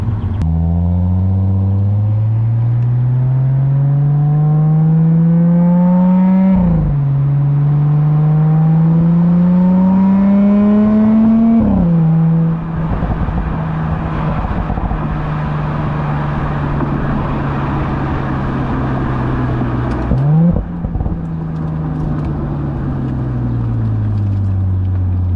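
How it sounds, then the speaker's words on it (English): Audi S4 with a modified exhaust valve revs repeatedly, its loud, close exhaust note climbing in pitch and dropping back between pulls, then settling into a steady rumble with no talking. "Definitely made the exhaust sound that much better."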